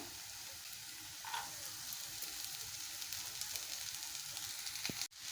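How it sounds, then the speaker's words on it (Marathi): Chopped cowpea leaves sizzle in a pan with fried onion, a steady close crackling hiss that swells slightly after the first second and breaks off briefly near the end. "आता त्याच्यामध्ये आपण ही आता चिरलेली चवळीची भाजी घालूया"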